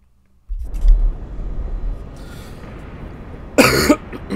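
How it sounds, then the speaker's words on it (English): One person coughs close up. Rough, throaty rasping rises at the start, eases off, and then a sharp louder cough bursts out near the end over a low rumble. "I'm sorry for coughing."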